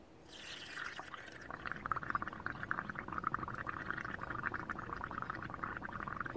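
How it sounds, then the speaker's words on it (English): Someone blows through a straw into a cup of coloured bubble water, making a steady, close, bubbling gurgle that runs for several seconds after a short opening puff of breath. "Blow through your straw like this."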